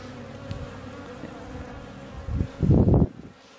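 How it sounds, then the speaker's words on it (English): Honey bees buzz around an open, drone-laying hive, a steady insect hum close to the microphone that swells loudly as bees fly near and bump the camera. "Yeah, the bees are testy. One just bumped the camera."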